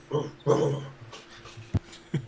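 A dog gives a few short whimpering barks and yips, fairly close, with sharp bursts near the end and no talk over them.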